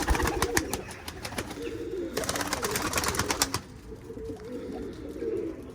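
Several pigeons coo in a loft of flying pigeons, a steady layered murmur of low throaty calls with brief wing flutters and scuffles, moderately near and continuous without talk.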